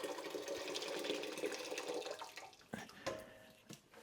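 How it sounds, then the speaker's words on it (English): Water splashes and gurgles as it is poured into a pot of Haribo sweets for homemade wine, a faint, steady stream nearby that trails off into a few small knocks. "so we're chucking the water in"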